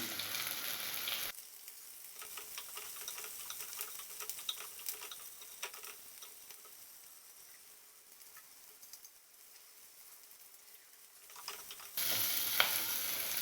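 Onions sautéing in a pan with salt, a soft steady sizzle with light stirring ticks running for several seconds, fairly quiet and close, no voices.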